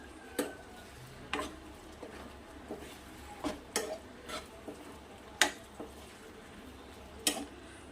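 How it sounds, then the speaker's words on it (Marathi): Okra being stirred into a yogurt mixture in a pan for dahi bhindi: soft, scattered clicks and scrapes of a spoon against the pan, irregularly spaced and fairly quiet over a faint background hum. "आपली आता भेंडी ॲड करू यामध्ये मिक्स करून घ्यायचं आहे"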